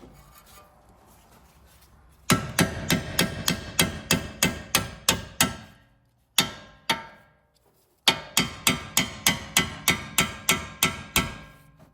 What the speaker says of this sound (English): we're gonna hammer it down a little bit to kind of open it